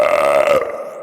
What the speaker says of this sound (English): Everybody has their own way of burping too.